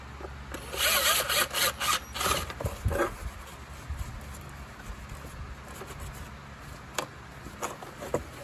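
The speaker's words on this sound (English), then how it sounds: "Now we just reinstall all the screws the same way that they came out." Screws being driven back into a Shark Navigator vacuum with a power driver, several short whirring bursts with rattling and scraping of plastic, close and moderately loud, followed by quieter handling noises and sparse clicks.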